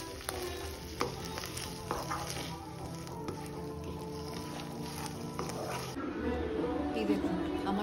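Curry is stirred in a pan after water is added, with a soft, steady simmering sizzle under scattered clinks and scrapes, followed near the end by a rougher bubbling rush.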